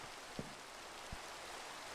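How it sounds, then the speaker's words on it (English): Steady rain falls in a sailing survival game, a soft continuous hiss with a couple of faint low thumps, heard alone with no talk. "I want more visibility, which means I want less rain."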